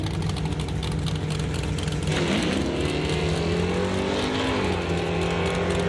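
A small block Chevy powered RX-7 launches at a drag race, its engine a loud, sustained roar that surges and climbs in pitch midway through, with the other car's engine rumbling alongside.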